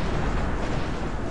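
Cannon artillery in the strategy game Cossacks 3: a dense, continuous barrage of heavy booms and crackling blasts that merge into one loud, rumbling wall of noise, with no voices.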